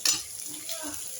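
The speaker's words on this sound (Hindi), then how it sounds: "ये मैं अभी भून के आपको दिखाती हूँ" Spices roast and get stirred in a pan until light brown for a Lucknow-style potato, pea and tomato curry, giving a soft, brief sizzle with faint scraping close by.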